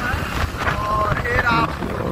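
Strong wind rushes steadily past a microphone on a fast-moving motorbike on a road, a continuous low buffeting roar with a faint voice talking underneath.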